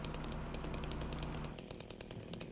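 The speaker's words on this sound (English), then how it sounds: "Chainsaw!" A video game chainsaw buzzes in a rapid, rattling burst that drops and continues more quietly, heard faint and alone.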